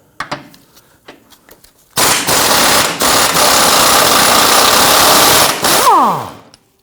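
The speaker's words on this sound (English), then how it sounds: "Using a 17mm socket, we want to go ahead and loosen and remove this bolt." Impact wrench with a 17mm socket loosening a front control arm bolt on a 2017-2020 Hyundai Elantra, a loud sustained rattling hammer burst of about four seconds that winds down with a falling whine, preceded by a few quiet clicks.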